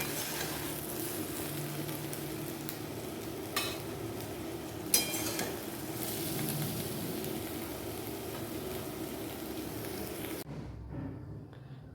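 Brinjal slices frying in oil in a home kitchen, with a constant close sizzle and occasional scrapes and clatters of a spatula being stirred, cutting off abruptly near the end.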